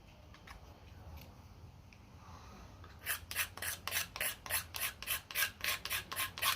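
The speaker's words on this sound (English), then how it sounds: "you can also just scrape along the side, and that will burnishes it a little bit" A blade scrapes along the side of a wooden nalbinding needle. After a quiet start, about a dozen rhythmic, close rasping strokes follow in quick succession.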